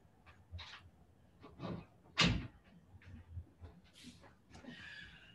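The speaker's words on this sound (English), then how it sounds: "I'm going to shut my door really quick." An indoor door is shut once, giving a single loud thud near the middle, with softer handling knocks and rustles before and after it.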